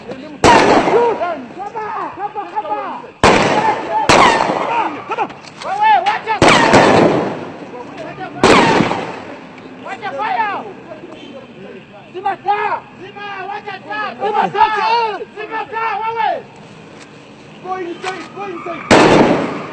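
Gunfire rings out during a shootout at a soap factory in Uganda: several loud, sharp bursts of shots come at irregular intervals, with shouting voices and talk heard between them.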